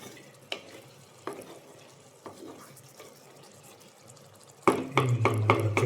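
A spoon scrapes and stirs beef liver roast in a pan, with soft intermittent clinks at first, then a louder burst of sizzling and stirring near the end, close and without talk.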